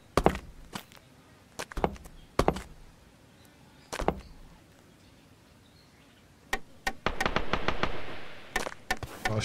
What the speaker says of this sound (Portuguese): os tiros comendo